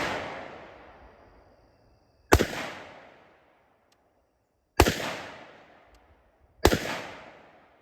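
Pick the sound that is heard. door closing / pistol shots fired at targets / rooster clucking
pistol shots fired at targets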